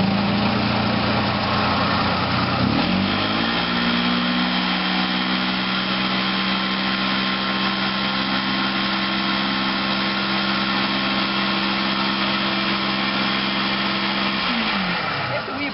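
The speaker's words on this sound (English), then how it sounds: "We apply the cleaning agent with our sprayer." A carpet cleaning sprayer applies cleaning agent with a loud, steady motor drone. Its pitch shifts upward a few seconds in, holds evenly, then drops away near the end.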